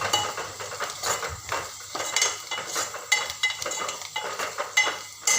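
A spoon stirs chutney with turmeric and red chili powder in a pan, giving repeated close scraping and clinking strokes over a faint sizzle, in an irregular rhythm.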